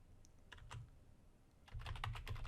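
Keys clack on a computer keyboard as a name is typed for a new starter GPO in Windows Server, a few scattered taps followed by a faster, denser burst of typing, close and fairly quiet.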